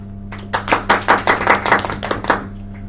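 A run of sharp hand claps in a quick uneven rhythm, close and fairly loud, over a steady low electrical hum, with no talking.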